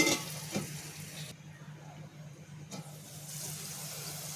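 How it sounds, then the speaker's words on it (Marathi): Chana dal simmers in a covered pan over a low gas flame, making a faint, steady hiss and gentle bubbling that stay quiet throughout. A brief drop in the noise falls near the middle. "गॅस थोडा बारीक करून झाकण ठेवून चणा डाळ आपल्याला एक पाच मिनटं शिजवून घ्यायचे"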